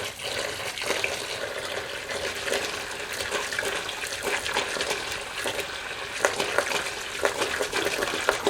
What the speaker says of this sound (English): Putting these in vinegar to clean them.